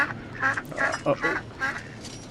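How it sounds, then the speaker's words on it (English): Ducks flying overhead in a rollercoaster video game give a short run of nasal quacks, moderately loud over a steady background hum. "It sounds like a duck."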